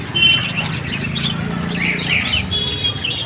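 Caged birds, including cockatiels, chirp inside a bird shop; bright chirps and trills, loudest toward the middle, rise over a busy murmuring background.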